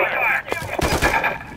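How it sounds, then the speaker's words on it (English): Enemy gunfire in the Call of Duty video game, with a few sharp, heavy shots and bursts over a steady background roar, close and loud. "There's enemy fire!"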